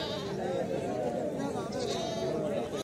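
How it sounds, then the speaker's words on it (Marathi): Goats bleat at the Sinnar Sunday livestock market, their cries rising over a dense, close background of people talking in the crowd. "भरपूर प्रमाणात बकरे आल्या."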